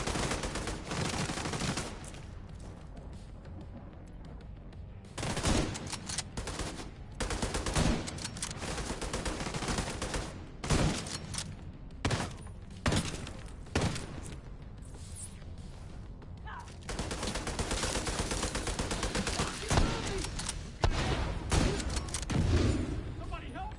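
Sustained automatic gunfire and bursts of shots in The Division 2, loud and dense through most of the stretch, with a voice speaking over the shooting.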